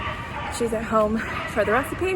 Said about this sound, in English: Sorry for the dog barking in the background.